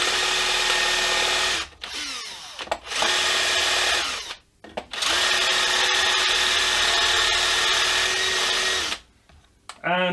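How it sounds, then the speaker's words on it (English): A cutter edge scrapes against a handmade guitar's edge as it is worked like a reamer, in long rasping passes broken by short pauses. "we can use this edge here of the cutter as a reamer thing to"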